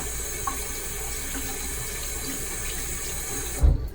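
Tap water runs steadily into a sink, wetting a bar of shaving soap, a constant close hiss that ends with a brief knock.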